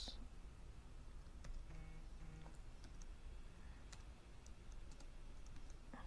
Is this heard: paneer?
no